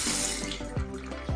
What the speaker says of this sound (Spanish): Llave es de donde viene el agua.